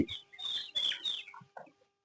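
Young chickens being vaccinated at a home farm peep and cluck in short bursts, fairly close and alone, fading out after a couple of seconds.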